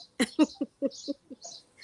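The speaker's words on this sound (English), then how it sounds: "Like now, there's a bird chirping." A bird chirps outdoors in a few short, faint, high calls, mixed in with lower muffled sounds across a brief stretch.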